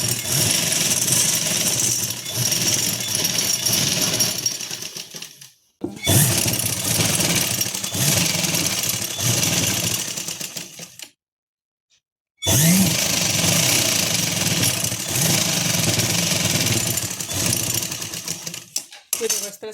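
A sewing machine stitches the seat seam of a tulip salwar in loud, close, steady whirring bursts of about five seconds each, broken by brief pauses and one longer silence.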